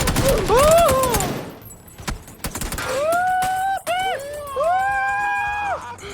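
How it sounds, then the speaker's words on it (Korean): Bursts of rapid gunfire in PUBG crackle between loud, wavering tonal sounds that swoop up and down. "총소리"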